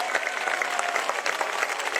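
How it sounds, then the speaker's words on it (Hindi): Dense, steady applause from a large crowd at a political rally, greeting a speaker with loud, continuous clapping filling the space and no voices standing out. "खड़े जोरदार तालियों के साथ स्वागत करे भाई।"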